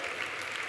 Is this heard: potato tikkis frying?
no